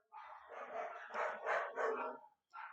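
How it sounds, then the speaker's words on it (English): Several dogs bark indoors in a rapid, overlapping volley that stops briefly before one more bark starts, heard at moderate distance with no talking. "My dogs just do this all the time. They keep barking at the background."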